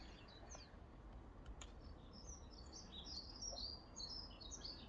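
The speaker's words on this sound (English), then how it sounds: "Happy chirping sound of the house sparrow." House sparrows chirp in a garden, with repeated bright, quick chirps scattered throughout over a low, steady outdoor rumble. The birds sound moderately distant and fairly soft.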